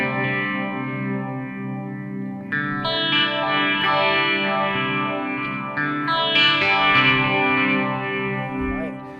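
Electric guitar run through a phaser preset on a Headrush Prime amp modeler, clean chords with a slow sweeping, swirling tone, strummed in a few sustained phrases with no talking.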